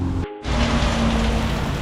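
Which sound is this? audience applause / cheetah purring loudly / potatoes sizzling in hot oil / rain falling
rain falling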